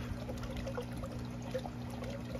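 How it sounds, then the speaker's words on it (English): Backyard aquaponics waterfall running, a faint, steady trickle and splash of falling water heard alone for a couple of seconds. "so you can see when the waterfalls go off"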